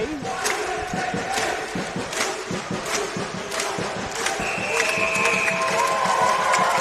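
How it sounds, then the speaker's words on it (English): A crowd of under-17 ACT Griffins rugby supporters and players performs a Viking clap before the second half against Tasmania, loud rhythmic claps and shouts repeating at a steady beat over general crowd noise. "Bit of a traditional Viking clap, ACT Griffins clap to get us underway."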